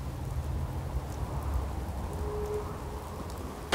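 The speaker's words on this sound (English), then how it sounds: "Hope this rain lets up soon." Rain falls in a video game as a continuous soft patter over a low rumble, with a brief faint tone near the middle and a sharp tap at the end.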